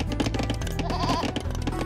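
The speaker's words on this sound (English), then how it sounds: "Oh wait, I've got goats!" Goats bleat in the strategy video game Age of Empires II, a short loud cry heard over busy game music and effects.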